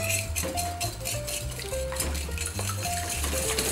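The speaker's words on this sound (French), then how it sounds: "on va mélanger le sucre avec les jaunes, on va les battre" Egg yolks and sugar being beaten in a bowl, with rapid repeated scraping and clinking of a utensil against the bowl over a busy kitchen background and a continuous tonal hum.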